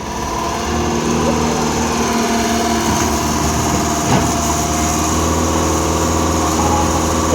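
A 120 Mark T turbo engine runs loud and close with a steady, buzzing high-pitched drone and strong harmonic whine, holding fairly constant throughout without speech.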